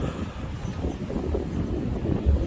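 Strong wind at a desert camp near Dubai buffets the microphone in a continuous rough roar with low gusty thumps, close and unbroken for the whole stretch, no voices.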